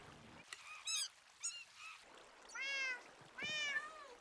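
Cats meow in Minecraft Java Edition, several short game-sound meows spaced through the stretch, fairly clear and close with quiet background and no talking.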